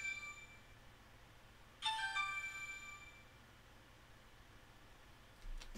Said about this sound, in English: Thought I silenced my phone.